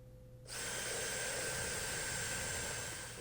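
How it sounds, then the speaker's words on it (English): Power drill running in reverse to back out wood screws from a wood tissue box, a steady high whine starting abruptly after a brief pause and holding loud and constant to the end. "I'm going to turn my drill in reverse"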